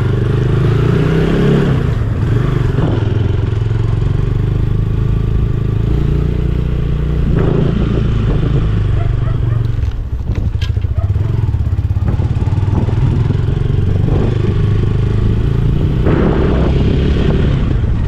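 A motorcycle engine runs steadily on a road, loud and close throughout, with rumbling low drone, occasional clatter and brief revving swells.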